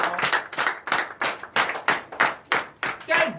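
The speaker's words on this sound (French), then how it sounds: "Frères et sœurs en Christ, donnez l'acclamation à l'Éternel." A church congregation claps in acclamation at a Sunday worship service, about a dozen sharp, evenly spaced claps in a steady rhythm, close and clear.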